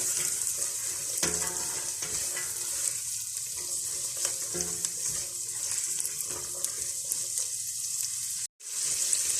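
Chopped carrots fry in butter with a steady, fairly soft sizzle and occasional scraping stirs, broken by one brief dropout near the end.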